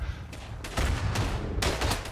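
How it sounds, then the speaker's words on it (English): Gunfire in a Verdun World War I trench battle on the Champagne map, a dense rolling fusillade of rifle and machine-gun shots with bursts swelling louder partway through. "I'm shooting the bots."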